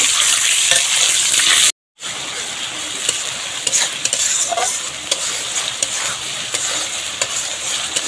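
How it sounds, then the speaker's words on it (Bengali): Eggs frying in oil until lightly browned for egg korma, a loud continuous sizzle and spatter close to the pan, cut by a brief silent gap, with no one speaking. "ডিমটা ভেজে নিচ্ছি ডিমের কোরমার জন্য, একটু হালকা ব্রাউন ব্রাউন কালার করে ভেজে নেব।"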